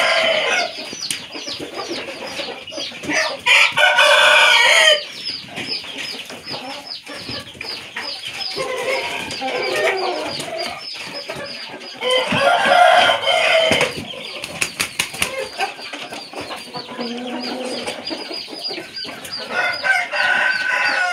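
Chickens and a rooster on a farm give repeated loud crows and busy clucking, close by, in several bursts with short quieter gaps between them.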